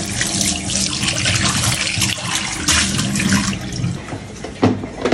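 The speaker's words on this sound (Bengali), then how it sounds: "এখন আমি এটা ভালো করে ধুয়ে আগে ভাতটা ভিজাই নিব" Cooked hot rice is washed under running water for panta bhat, a loud close splash and gush of tap water in a sink with shifting surges and a clink near the end.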